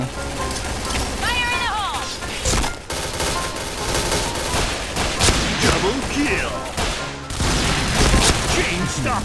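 Rapid bursts of gunfire from a cash-bought gun in the Point Blank shooter game crackle repeatedly over busy game effects, with brief pauses between volleys and people talking over it.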